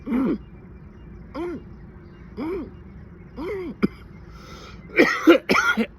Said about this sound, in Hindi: ऐसे खांसी उठेगी आपको